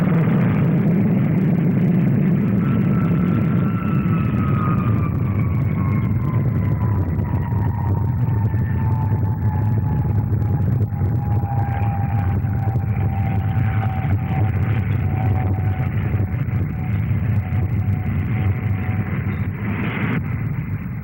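A jet bomber with four Olympus engines totalling 70,000 pounds of thrust climbs almost vertically at the 1959 Farnborough air display, a loud continuous roar with a slowly falling whine that fills the whole stretch.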